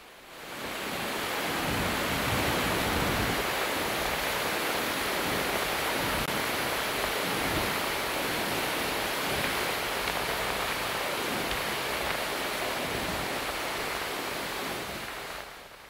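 Water released from Basavasagar dam near Narayanapur rushes into the Krishna river, a steady, loud broadband roar that holds constant throughout with no voices.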